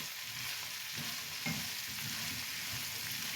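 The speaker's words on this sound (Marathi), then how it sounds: "छानपैकी ह्याला सौते करते" Okra sautéing in a pan over a medium gas flame sizzles steadily up close, with soft scraping stirs at intervals and no talking.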